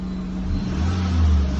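A Volvo S40 engine idles just after start-up following a fuel filter replacement, a steady low hum close by that swells slightly toward the end, with no talking.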